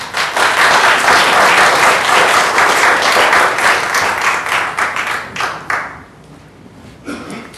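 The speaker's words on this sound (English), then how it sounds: "everyone could hold off on the applause after every speaker" Council meeting audience applauding after a public speaker, loud and dense clapping that thins and fades away in the last seconds.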